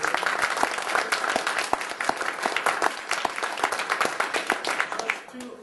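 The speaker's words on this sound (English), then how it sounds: "Another round of applause for also for our moderator." A round of applause at an IGDA panel discussion on VR honours the panel moderator, with close, crisp individual claps from a modest audience continuing steadily before dropping away at the end.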